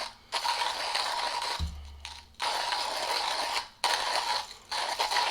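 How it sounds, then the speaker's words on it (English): A Comandante hand coffee grinder crushes beans with a steady ratcheting, gritty grind, cranked in repeated strokes separated by brief pauses, close and loud with a distinct higher pitch. "I noticed that this grinder, out of all my other grinders, has quite a bit different of a pitch than the other ones."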